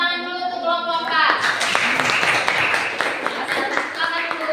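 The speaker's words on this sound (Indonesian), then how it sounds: "Oke, tepuk tangan dulu untuk kelompok 4." A classroom applauds group 4, steady scattered clapping from many hands that starts after a voice and continues evenly throughout, with some talk mixed in.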